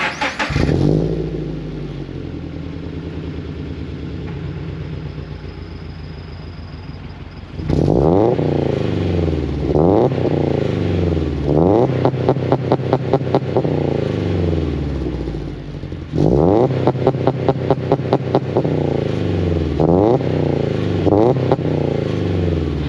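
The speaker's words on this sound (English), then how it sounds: "This is factory installed TRD exhaust. Let's show you guys what it sounds like." A Scion FR-S with a factory TRD exhaust and Tomei overpipe idles with a low rumble, then revs hard in two long bursts of rapid throttle blips, the engine loud and close throughout.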